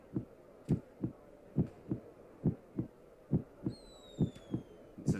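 A game heartbeat effect from Tomodachi Life pulses as soft, low double thumps in a steady, slightly quickening rhythm, with a brief bright chime near the end.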